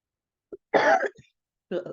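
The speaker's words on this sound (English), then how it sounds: "The cough is coming." A single cough bursts out in a quiet online meeting, preceded by a short throat sound and followed by a brief murmur of speech; close and fairly loud.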